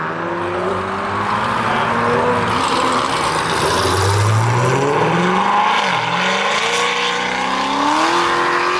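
At an exotic car show a Dodge Viper slides and revs nearby, its loud engine note rising and falling in long sweeps, with a sustained roar and some tyre noise over crowd ambience.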